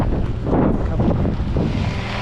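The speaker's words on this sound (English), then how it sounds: "here comes the wind." Strong wind blows outdoors in cold, wet, rainy weather, a loud continuous rushing and buffeting against the microphone with no break.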